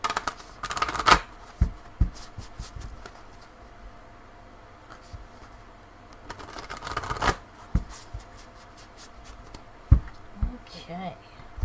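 Quick riffling and soft slaps of tarot cards being shuffled in a couple of bursts, close by, with brief rustles and handling noises between.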